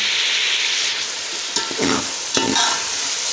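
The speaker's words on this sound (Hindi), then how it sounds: "देखिए यहाँ जो है ये अदरक लहसुन भून चुका है।" Ginger and garlic frying in a pot for haleem crackle with a bright, steady sizzle, broken by a few louder scrapes of a spoon stirring through, close up and without speech.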